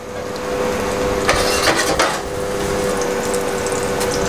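Courgettes go into a hot pan of salmon oil and garlic, giving a steady broadband sizzle with a few sharper clatters of utensil against pan, close and continuous.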